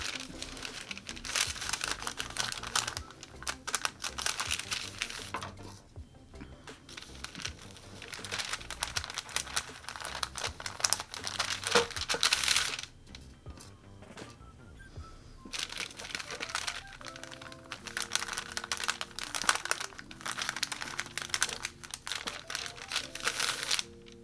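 Parchment paper crinkles and crackles in irregular bursts as it is pinned onto an embroidery hoop, close and fairly quiet, with brief pauses between handling sounds.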